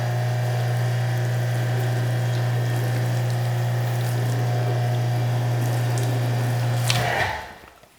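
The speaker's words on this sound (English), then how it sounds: "Can we do that whole like run water down the panel and have it dry thing?" Water runs down a car body panel during a wet wax and gloss booster detailing session, a steady trickle over a constant low hum that cuts off abruptly near the end.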